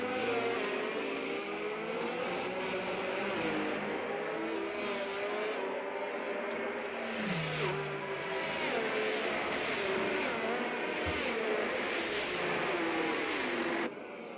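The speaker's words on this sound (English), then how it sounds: "That's the safety car making its way down the second DRS straight" F1 22 safety car driving around the Abu Dhabi circuit in the video game, a steady loud engine drone with shifting pitch held throughout, broken by a few brief sharp transients.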